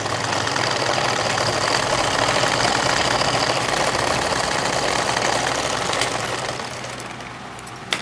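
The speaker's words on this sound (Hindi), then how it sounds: "ये देखिए मैंने कच्ची सिलाई यहाँ मार रही हूँ" Sewing machine running steadily through a tacking stitch on a blouse, a continuous loud mechanical whirr with rapid needle clatter that eases off near the end.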